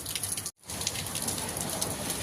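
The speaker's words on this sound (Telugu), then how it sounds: "చూడండి కోవెట్లో వర్షం అయితే ఇలా అయితే పడుతుంది" Steady, dense rain pours down close by in Kuwait, with a brief dropout of sound partway through before the downpour continues.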